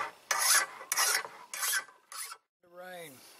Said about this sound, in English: take a file to there